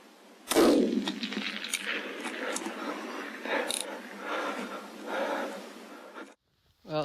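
A rifle shot at a fox across roughly 200 metres of open ground at night during thermal hunting: one sharp loud crack with a booming tail that fades over several seconds. A faint voice follows at the end.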